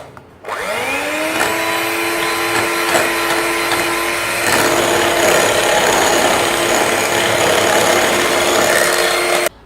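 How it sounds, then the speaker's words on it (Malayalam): An electric mixer whirs steadily as it beats whipping cream with passion fruit juice and powdered sugar, starting up after a brief pause and running loud and continuous with a scraping, whining edge. "ഇതൊന്ന് നന്നായിട്ട് ബീറ്റ് ചെയ്തെടുക്കണം."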